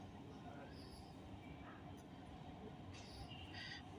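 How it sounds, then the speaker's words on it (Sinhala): An underground metro train approaches a Milan station, a faint steady rumble with soft high squeals from the wheels building near the end, and a voice speaks over it. "ඔයගොල්ලන්ට පේනවා ට්‍රේන් එකක් එනවා"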